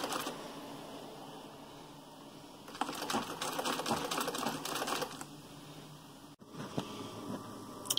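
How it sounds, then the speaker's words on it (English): A sewing machine top stitches a bias neckband, running in one close, quiet burst of rapid, even needle strokes lasting about two seconds, with faint room noise before and after. "Here it is top stitched on the sewing machine"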